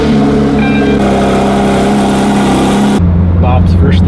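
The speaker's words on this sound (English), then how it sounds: "No better car to take than the RS." Ford RS car engine running steadily with a low droning hum inside the cabin, shifting in tone partway through, continuous and fairly loud throughout.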